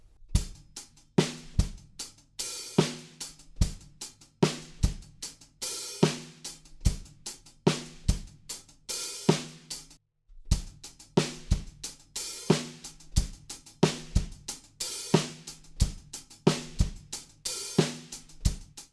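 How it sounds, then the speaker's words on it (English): A steady drum groove with kick and snare, its hi-hat opening into brief sizzling washes between hits; the pattern repeats after a short break. "we're going to add a few sizzles on the hi-hats"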